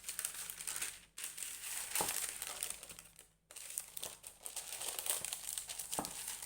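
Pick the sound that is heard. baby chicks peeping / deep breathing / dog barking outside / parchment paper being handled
parchment paper being handled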